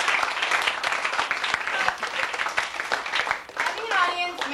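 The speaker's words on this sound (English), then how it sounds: "a round of applause for period 1 and period 2 directors" An audience applauding student directors at a school production, a steady wash of clapping hands with a young voice briefly talking over it near the end.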